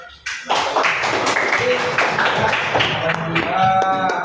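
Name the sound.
classroom applause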